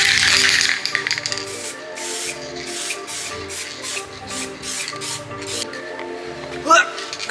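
A spray paint rattle can hisses in repeated short bursts with a rhythmic on-off pattern. One strong burst comes first, then a series of shorter sprays.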